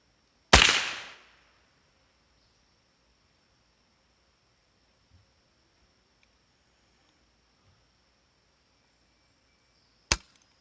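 A Savage 62 rifle fired outdoors, with two sharp, isolated shots, one early and one near the end, separated by a long near-silent gap with a faint steady whine and no talking.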